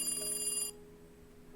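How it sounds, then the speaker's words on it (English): A desk telephone rings with a bright, trilling electronic bell tone that sounds steadily and then cuts off abruptly partway through, leaving a low background hum. "The phone on the desk rang,"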